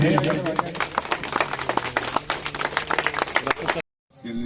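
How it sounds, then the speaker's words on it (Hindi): Crowd clapping at a farewell and welcome gathering for a police inspector in Jamua, Giridih, with a voice speaking over the dense, fairly steady claps before an abrupt cut to near silence. "तालियां बजती रहे।"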